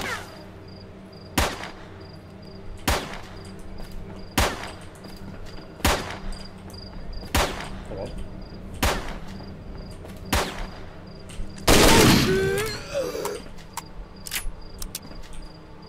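Video game gunfire: evenly spaced single shots crack out about every second and a half over a steady chirping background, with a louder, denser burst of fire near the end.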